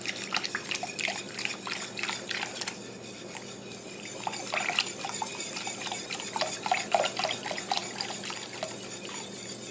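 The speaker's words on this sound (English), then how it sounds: "I'm going to try to stir this so I don't get lumps in it." Half and half is stirred into a clam chowder base, giving soft wet clinks and liquid swishes in an irregular rhythm, quiet and close with no voices.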